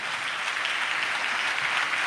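A church congregation clapping together, a dense steady burst of applause heard close and evenly sustained throughout.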